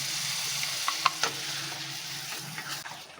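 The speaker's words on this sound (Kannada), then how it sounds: "ಈಗ ಇದೆಲ್ಲ ಸ್ವಲ್ಪ ಫ್ರೈ ಮಾಡ್ಕೊಳ್ಳೋಣ ಅದರಲ್ಲಿ ಟೊಮೆಟೊ ಪ್ಯೂರಿ ಹಾಕ್ತಾ ಇದ್ದೀನಿ" Spices and tomato puree fry in a pan with a soft, steady sizzle, broken by a few light clicks of stirring.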